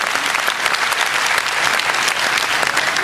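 Thick, continuous audience applause fills a community award ceremony, many hands clapping evenly at close range with no pause.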